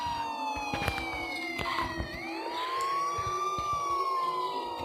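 A police siren wails steadily in a video game, its rising and falling tone sustained and loud across the whole stretch with faint clicks and game effects beneath.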